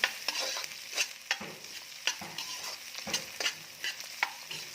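Chopped onion and green chilies fry in a pan for potato bhaji, a soft sizzle broken by repeated scraping stirs of a spatula, close up and fairly quiet with no talking.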